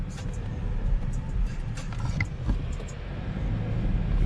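A new Audi A4 runs with a steady, fairly loud engine rumble and road-car noise throughout, while people talk excitedly nearby.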